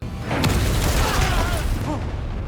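A sudden loud boom from an explosion in a tense Squid Game 2 scene, with a rumbling blast that stays dense and sustained under faint voices.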